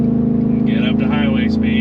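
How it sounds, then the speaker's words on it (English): Car fitted with an MBRP exhaust, cruising at about 50 mph as it shifts into high gear, gives a steady, loud, low exhaust drone that runs throughout, with brief higher engine tones swelling and fading over the top. "She's gonna make noise because it's an exhaust, duh."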